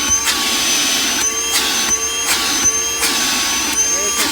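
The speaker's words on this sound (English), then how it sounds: "You got a wet dry vac" A Milwaukee M18 Fuel 18-volt cordless wet/dry vacuum runs with a steady loud whine and airy roar, pulsing rhythmically as the hose is moved, close by.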